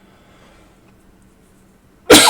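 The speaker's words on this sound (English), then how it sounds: "there's a cough for you." A single sudden cough bursts out loud at the end after near silence, short and close to the microphone, during watch repair work staking parts onto a balance staff.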